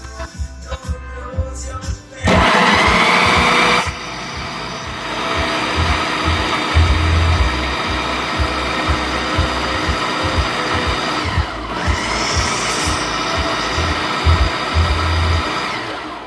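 An old 1970s blender blends hummus with a loud, motorized whir that cuts in and out in bursts, its pitch and load shifting as the thick mixture churns and rattles.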